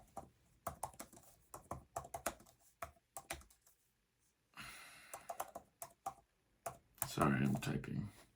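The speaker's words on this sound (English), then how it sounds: "sorry, I'm typing." Rapid, irregular clacking of keys on a computer keyboard in bursts with short pauses, close by, with a person talking toward the end.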